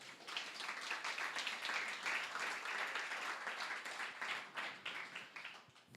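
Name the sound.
congregation applause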